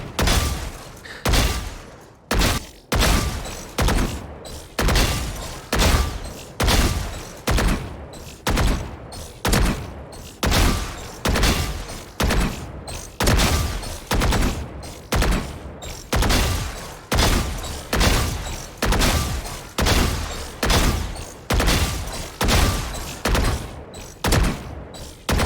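Rhythmic bursts of gunfire at the practice range in Valorant, short sharp volleys repeating at a steady pace for the whole stretch, loud and close with no talking.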